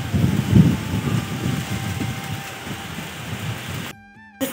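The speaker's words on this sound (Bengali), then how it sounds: "বৃষ্টি পড়তে শুরু হয়ে গেছে আর দেখো পুরো অন্ধকার হয়ে গেছে" Rain falls steadily during a storm at night, a dense broadband hiss with low rumbling beneath, loudest at the start and easing slightly before the sound cuts off.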